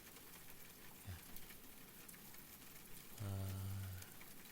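Rain falls on a gray day as a faint, steady patter and hiss that continues throughout, with a short low hum rising briefly near the end.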